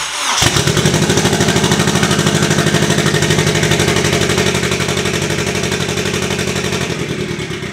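A Honda K24 engine fires up and runs rough on only two cylinders, a loud, close, uneven and lumpy rumble that clatters steadily throughout.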